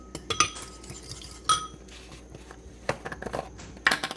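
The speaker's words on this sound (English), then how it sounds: "Next, I'm going to mix that in." Utensil clinks and scraping as balsamic chicken ingredients are mixed in a bowl for a crockpot recipe with brussels sprouts, several sharp close knocks spread across a few seconds.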